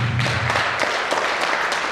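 A crowd at an anniversary gathering claps loudly and continuously for a first-time speaker, a close, even burst of applause with sharp individual claps standing out.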